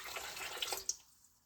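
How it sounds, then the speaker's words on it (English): Warm water pours from a measuring cup into a bread roll dough mixture of salt and sugar, a short, soft splashing trickle that fades out after about a second. "1/2 cup of warm water,"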